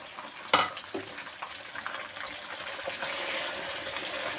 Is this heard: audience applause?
no